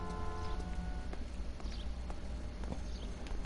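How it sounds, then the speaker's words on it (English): Horse hooves clip-clop in a PS4 video game, a rhythmic series of light hollow knocks over a low game ambience with a steady hum, moderately near. "Look like real horses."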